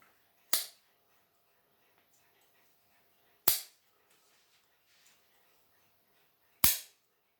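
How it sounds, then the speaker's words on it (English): The clip of an unused 1950s Ever Ready razor snaps shut with a sharp spring-loaded click, heard three times at even intervals in near silence. "You can hear it clicking."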